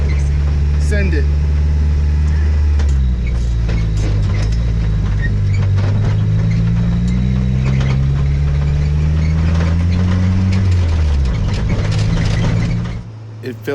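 A Volkswagen Beetle rolls onto smooth pavement after a muddy road, its air-cooled engine humming steadily with shifting pitch and some mechanical rattles, close and loud, while a person talks over it.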